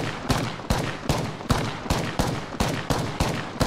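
A decoy grenade in Apex Legends replicating gunfire, a regular string of about nine sharp shots, evenly spaced and moderately loud.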